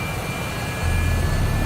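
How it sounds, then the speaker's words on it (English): Jet engine spooling up during start in the DCS World flight simulator, a loud steady roar with a high whine that swells and deepens partway through, no voices. "Oh, I love this sound. Engine 1 is running."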